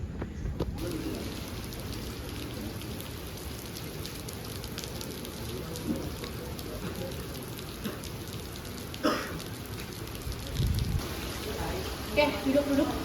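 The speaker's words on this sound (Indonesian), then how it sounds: "Udah hujan begini." Steady rain falls outdoors at a school sports track, a dense even hiss of drops with a few louder splashes and low thumps near the end, with no talk heard.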